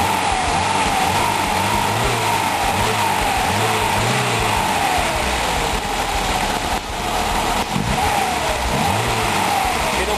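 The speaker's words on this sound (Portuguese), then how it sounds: "Acelera aí, ó." A Lada Niva 4x4 engine is revved repeatedly up and down, loud and close, with rhythmic surging rises and falls over a constant engine roar.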